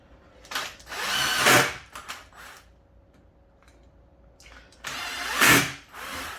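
A power drill whirs up in two loud bursts while countersinking screw holes in a wooden console table, with a quiet pause between the bursts.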